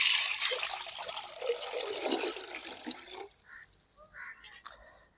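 Water is poured over clay-baked eggs to rinse off the clay, a close splashing gush that thins out after a few seconds into scattered drips and trickles.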